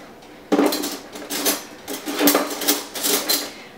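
A spoon clatters against dishes and kitchen utensils during vegan tofu scramble breakfast prep, a run of close, bright metallic clinks and knocks in irregular bursts.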